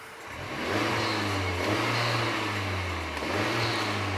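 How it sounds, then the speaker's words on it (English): A 2017 Honda Civic Type R with its turbocharged four-cylinder is revved from idle, the engine note rising and holding steady for a few seconds, dipping briefly, then climbing again; a close, fairly subdued drone with no talk. "we got to give it a rev, even though there's not much to hear"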